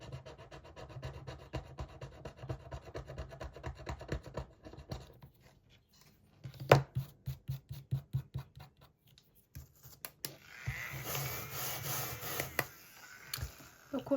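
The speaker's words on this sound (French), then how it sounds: "Et on vient gratter une clé." A scratch-off card being scraped, likely with a coin, in short rhythmic rasping strokes, close and fairly quiet, coming in several bursts with pauses between.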